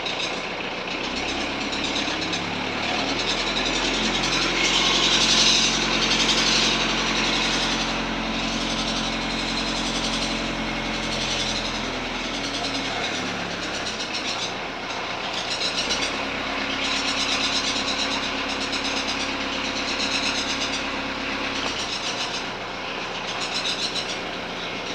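The 1.9 TDI diesel engine of a VW Transporter T4 runs loud and close, rising into a sustained rev and then settling back to a steady idle with a gruff, clattering drone.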